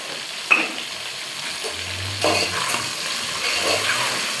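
Cluster beans and green chillies frying with rock salt in a pan: a steady close sizzle with a few sharp scraping stirs and a brief low rumble partway through, no talk.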